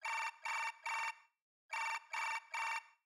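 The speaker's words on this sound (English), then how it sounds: "I heard the sound of a ringing phone." Phone ringing in the Chaos;Child visual novel: two bursts of three bright, evenly spaced electronic rings separated by a short pause, clear and alone with no talking.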